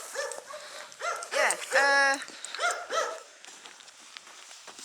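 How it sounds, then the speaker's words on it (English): A big dog barks in a village, several loud, close woofs and yelps in uneven bursts, with a brief voice in between. "Another big dog over there."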